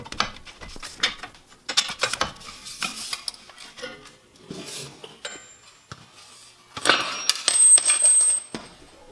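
Someone works metal tools on a Jeep OEM steering stabilizer with an 18mm bolt and nut, giving close, irregular clinks, ratchet clicks and metallic rattles in short bursts with pauses between.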